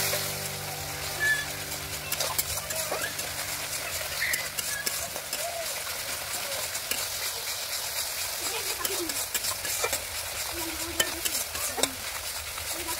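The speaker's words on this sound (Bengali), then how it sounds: "এইবার ভালো করে মশলাটা আর একটু কষাতে হবে।" Spice paste and sour yogurt are sautéed in oil, with a steady bright sizzle and a spatula scraping and stirring in the pan, close, under a voice talking.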